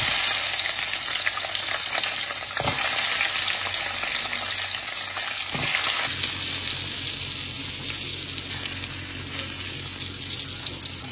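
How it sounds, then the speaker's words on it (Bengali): Frozen chicken pops frying in oil on a tawa, a dense continuous crackling sizzle heard up close, with a couple of brief knocks as pieces are moved, and no speech. "এবার এটা ভাজবো।"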